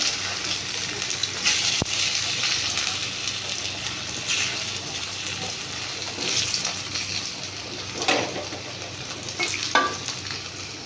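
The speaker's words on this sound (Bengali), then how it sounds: "একটা করে আলু দিয়ে ভেজে নেবো" Parboiled potatoes fry in hot oil in a pan for a Bengali meal, a steady close sizzle with occasional stirring and scraping clatters.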